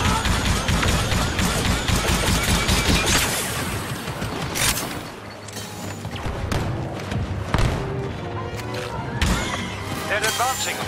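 Repeated turret fire in a Star Wars Battlefront 2 multiplayer battle on Tatooine: dense rhythmic blasts and thuds packed into the first seconds, then scattered louder shots amid battle noise, with voices speaking over the fighting.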